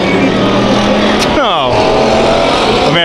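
Stock race cars roar loudly on a raceway track at a heat race as the leader spins out, with a sweeping engine pitch drop as a car passes close by, under a commentator's excited talk.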